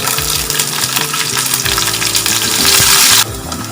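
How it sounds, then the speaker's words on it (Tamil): Garlic cloves saute in oil for poondu chutney, a loud, close, continuous sizzle with stirring scrapes and crackles that cuts off abruptly near the end, without speech. "அது நல்லா வதக்கிக்கோங்க."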